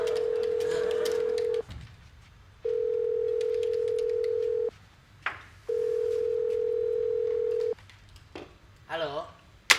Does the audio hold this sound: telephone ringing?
yes